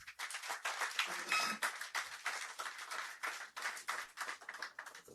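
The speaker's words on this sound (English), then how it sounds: "Please make that round of applause a little bit louder." An audience at a construction and real estate outlook event claps in a dense, lively round of applause, many hands overlapping at moderate distance and fading slightly toward the end.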